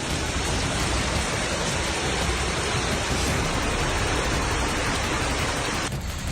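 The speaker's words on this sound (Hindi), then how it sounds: "भारी बारिश के बाद ये वीडियो सामने आया स्पेन के शहर मर्सिया से" Heavy rain pours over flooded streets in Murcia, Spain, a dense, steady roar of rainfall and rushing water that fills the whole stretch without a break, loud and close, with no voices.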